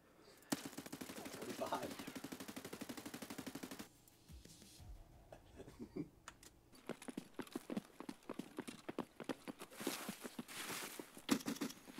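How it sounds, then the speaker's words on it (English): Gunfire in the shooter game Escape from Tarkov: rapid automatic bursts of shots, a pause, then scattered sharp reports and further volleys, moderately distant and fairly faint. "Oh, we're getting shot at."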